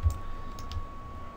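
A computer mouse gives quick, light clicks close up, including a rapid double click, crisp and faint over a quiet room with a faint steady electronic tone.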